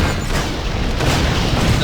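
A cannon fires in the Torchlight II action game, with booming, thudding blasts rolling together over a dense, noisy combat background for a couple of seconds.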